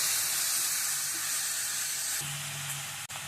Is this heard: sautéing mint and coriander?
yes